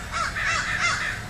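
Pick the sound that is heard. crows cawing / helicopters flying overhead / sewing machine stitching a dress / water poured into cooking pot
crows cawing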